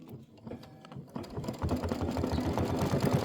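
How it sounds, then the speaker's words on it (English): A Brother Scan N Cut machine starts up and its carriage moves, a mechanical motor whir with a fast rhythmic chatter that rises after a quieter start and then runs steadily up close. "Carriage is going to move. I'm going to hit start."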